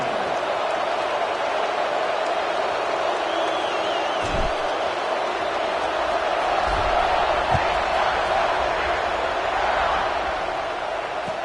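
Stadium crowd noise from an NCAA football video game around a kickoff: a steady, loud, broadband roar that holds through the whole stretch, with a few faint thumps beneath it.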